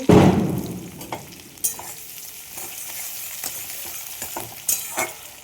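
Sliced ginger and ten to twelve garlic cloves hit hot oil in a pan with a loud initial burst of sizzling that settles into a steady frying crackle, punctuated by a few spatula stirs.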